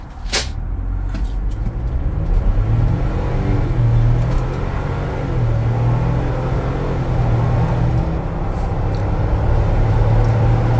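A 2022 Ford Bronco Badlands launching hard in sport mode, its engine note rising and holding as it accelerates, loud and close inside the cabin, with no one speaking.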